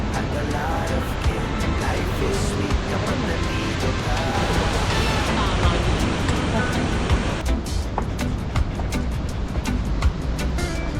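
Toketee Falls in Oregon roars as a steady, broadband rush of falling water heard from nearby, dense and continuous throughout, with faint clicks and handling bumps over it.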